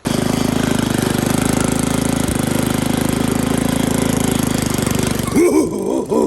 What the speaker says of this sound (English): Carb on the tiller running great